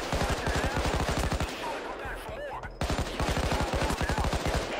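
Rapid automatic gunfire from a shooter video game, fired into a smoke cloud during a Payday 2 heist, with dense repeating shots in long loud bursts, a short pause in the middle, then another sustained volley.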